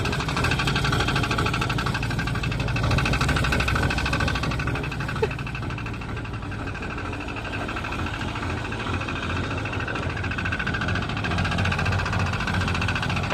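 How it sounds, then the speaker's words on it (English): A 1989 Jeep XJ with the 4.0L engine at slow idle, running steadily up close with a faint, rapid, continuous ticking knock under the low engine drone. "After you drive it for a while, you start getting this tick, tick, tick, tick, tick, tick, tick, tick, tick, tick, tick sound."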